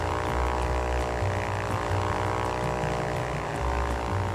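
Steady propeller-plane engine drone from a small aircraft in flight in Ultrawings, a continuous buzzing hum with a low throbbing pulse, close and even in loudness, no voices.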